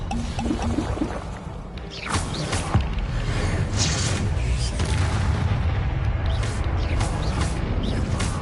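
Expelliarmus spell effect in a Hogwarts video game: sharp, booming magical blasts and crackling bursts fire repeatedly over a dense, continuous wash of game noise and effects.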